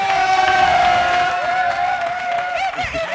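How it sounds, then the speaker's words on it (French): A television studio audience on a French-language comedy talk show cheers and applauds loudly, a dense crowd roar with raised voices and whoops sustained throughout. "Applaudissements!"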